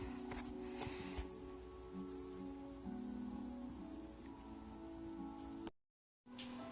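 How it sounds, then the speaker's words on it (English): Steady rain falls outside, heard through an open door of a house as a constant, even hiss with a low hum beneath, briefly cutting to silence near the end. "So it's raining outside, so I decided to open the door and get some fresh air in the house."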